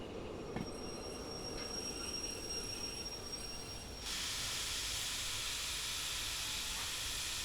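A train brakes in the Derail Valley simulation game, with squealing wheels and rolling rumble giving way to a loud broadband hiss of air brakes that holds to the end.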